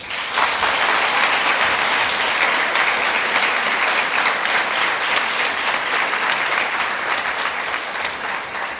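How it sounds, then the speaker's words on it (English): An audience at a primary school awards ceremony gives grade 7 parents a long, dense round of applause, many hands clapping steadily and loudly from start to finish. "Would you mind giving them an enormous round of applause?"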